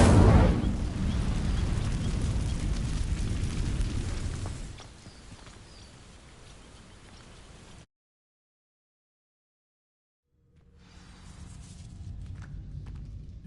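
A burst of fiery crackling opens as an Incendio spell sets dry vines alight in Hogwarts Legacy, settling into a low rumbling burn, then a gap of silence before quieter ambient sound returns.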